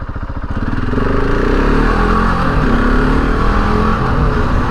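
A KTM 690 Enduro single-cylinder motorcycle engine drones steadily and loudly during street riding, with a continuous close rumble and a slight rise in pitch at the start, and no voices.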